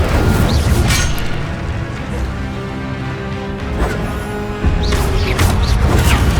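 An Incendio fire spell cast in the Hogwarts Legacy video game produces a loud, dense whooshing roar of flame with booming impacts, continuous and layered over game sound effects.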